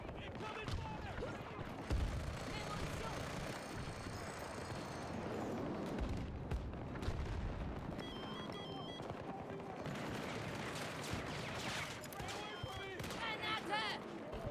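Dense, continuous gunfire and explosions from the Battlefield 2042 video game, with rapid bursts and booms layered under a busy battle soundscape, with in-game voices calling out throughout.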